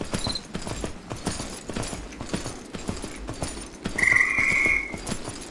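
Horse hooves while riding in the video game Myth of Empires, a steady clip-clop of hoofbeats at a moderate pace, with a brief higher-pitched tonal call near the end.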